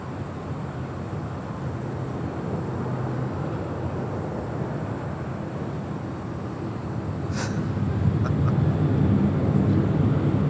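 Southwest jet airliner rolling for takeoff on runway 24 left at Los Angeles International Airport, a steady broad engine roar heard from a distance that grows louder toward the end, with no talk.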